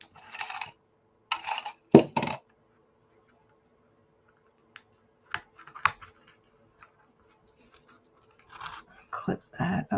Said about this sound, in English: get a rusty paper clip out